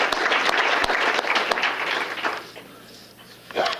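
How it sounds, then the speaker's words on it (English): An audience claps for a police officer retiring after 20 years at a city employee recognition awards event, a burst of scattered applause that fades over a few seconds before a brief final swell. "let's have a round of applause for him"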